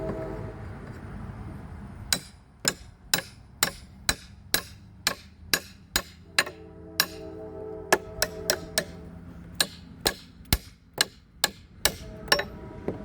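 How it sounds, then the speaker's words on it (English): Repeated sharp hammer strikes on wooden pallet boards being knocked apart, about two dozen blows at an uneven but steady pace, close and crisp with a low hum underneath. "Hammer as far as she'll go."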